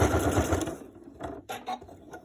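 Sewing machine stitching a strip of elastic along a seam line at the top of a pleat, a steady motor whir at first that breaks into short bursts with handling noise in between.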